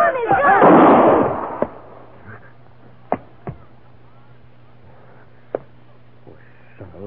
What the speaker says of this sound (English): He shot himself.